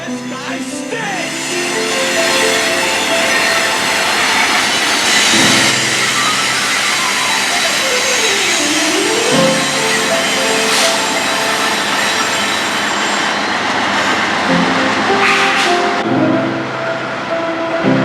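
A BNSF locomotive hauls a train through trees, its loud horn sounding several long blasts over the steady rumble and clatter of passing rail cars, with the horn's pitch bending as it goes by.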